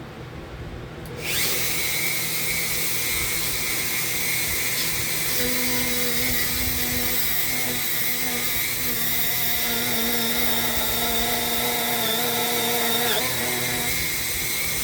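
A Dremel rotary tool carves a ring gauge out of padauk wood, starting abruptly after a quiet moment and then whining steadily and loud at a high pitch, the tone shifting slightly as the bit bites into the wood, close up with no talking.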